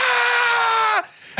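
A voice imitates the full-chested battle scream of an action movie fight, a loud sustained raw yell lasting about a second before cutting off abruptly.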